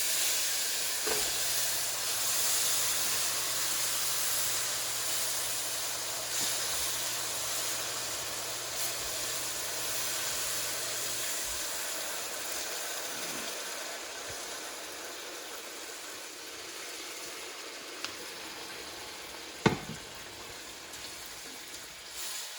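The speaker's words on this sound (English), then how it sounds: "Carefully add the sugar syrup on low heat." Sugar syrup poured over semolina halwa frying on low heat gives a steady, fairly quiet sizzling hiss that runs throughout, with a couple of brief clinks near the end.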